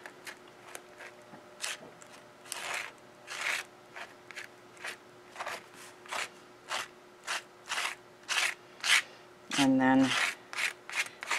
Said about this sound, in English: we're going to apply the gel through the stencil